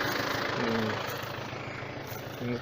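A Yanmar FX 305 tractor engine runs steadily while mowing uneven, poorly ploughed ground, a continuous low drone with brief tonal rises as the load shifts.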